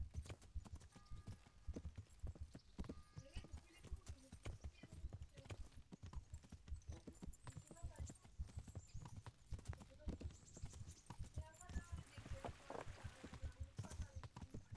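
Horse hooves clip-clop steadily at a walk while riding in the medieval video game Kingdom Come: Deliverance, a continuous close rhythmic patter with occasional tack and ambient game sounds underneath.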